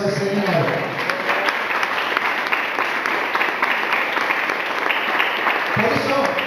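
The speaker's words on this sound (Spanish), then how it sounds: "¿Cuánto le dan un aplauso al Señor?" Congregation clapping in praise during a Spanish-language church sermon, a continuous dense round of applause lasting several seconds, steady and loud throughout.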